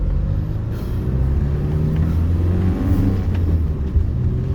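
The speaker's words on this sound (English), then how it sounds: "This is a grape harvesting tractor." Engine of a grape harvesting tractor rumbling steadily at close range outdoors, a continuous low drone with slight rises in revs throughout, no voices.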